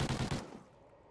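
A short rapid burst of video-game gunfire in a first-person shooter match, a few quick close shots fading fast into a quiet tail.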